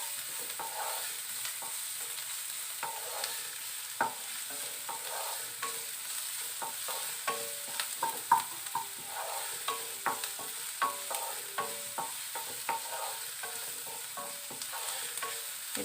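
Chopped garlic and ginger fry in an oil-filled pan with a steady sizzle, while repeated scraping strokes of a spatula stir them throughout; no one speaks.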